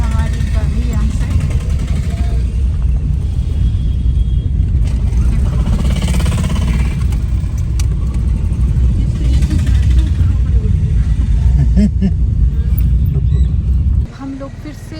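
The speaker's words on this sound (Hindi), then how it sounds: "अब निकल गई हमारी गाड़ी यहाँ से।" A car pulls away through heavy traffic on a family road trip from Kasauli toward Nakodar, giving a steady, loud engine and road rumble from inside the vehicle that eases off near the end.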